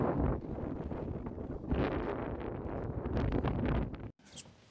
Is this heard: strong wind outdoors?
yes